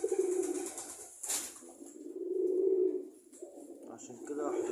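A male pigeon close to a nest gives low, rolling coos in long drawn-out bouts, with a brief wing rustle between them.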